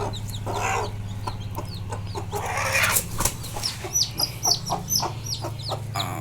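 Chickens cluck repeatedly at close range over a steady low hum, with short bursts of higher chirping from chicks scattered throughout.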